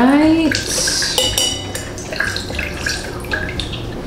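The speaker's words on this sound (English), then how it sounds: "adding fresh squeezed juice like this into the glass" Fresh squeezed juice poured into a glass measuring glass while mixing a Mai Tai, heard as a close, steady liquid splash with clinks of glassware and a brief rising tone at the start.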